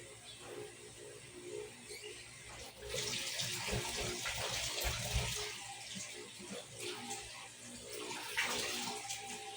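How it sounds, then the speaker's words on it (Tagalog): A faucet pours water into a clogged kitchen sink: steady running and splashing close by, turning heavier and louder after a few seconds and then continuing evenly, with no speech. "ang aking lababo ay nagbara na sa tubig"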